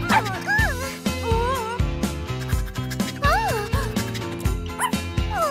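A puppy yips, barks and whimpers in short, high squeaky bursts repeated throughout, close and fairly loud, over steady background music.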